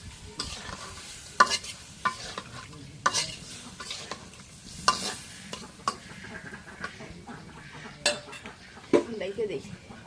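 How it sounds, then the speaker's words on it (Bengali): Fish pieces stirred and fried in a spice masala in a pan, with scattered scraping clatter of a utensil against the pan over a low sizzle, close and moderately quiet. "মশলাটা কষানো গেছে মাছগুলো দিয়ে দিই দিয়ে একটু কষাই নিই"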